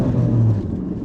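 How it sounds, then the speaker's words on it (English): A small, cute car lapping a test track, its engine humming loudly and evenly for a moment and then easing into a lower, fainter rumble, with no one speaking. "Let's go one more lap down the test track."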